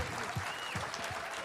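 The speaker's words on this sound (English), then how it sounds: "How about a round of applause for these fellas" Brief burst of clapping from a small group, with a few louder claps standing out near the listener.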